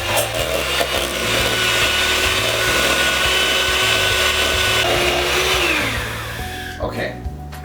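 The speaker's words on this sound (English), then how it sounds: "use the old handy hand mixer." Electric hand mixer beating cream cheese for a cheesecake, a close, loud whirring motor with rattling beaters that shifts pitch as it works, then cuts off near the end.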